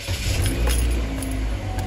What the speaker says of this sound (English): I'm going to go ahead and start the vehicle up.